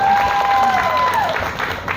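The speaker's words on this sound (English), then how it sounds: "Big cheer for Sophia." A fairground crowd at the 2018 Florida State Fair cheers and applauds steadily for a young volunteer at a science show, a dense wash of clapping and voices with a whistle-like tone running through it.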